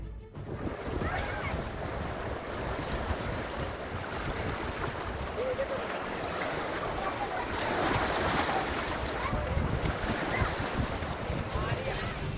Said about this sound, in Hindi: बांध के 6 गेट खोले जाने से नदी के पानी में उबाल आ गया है।